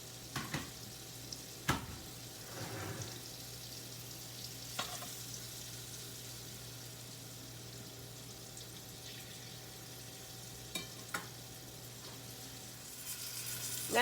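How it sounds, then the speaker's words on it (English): A faint, steady sizzle of green tomatoes frying in hot oil continues throughout, with occasional soft clicks and pops, quiet and without talk. "We're going to put our green tomatoes in here and start frying them up."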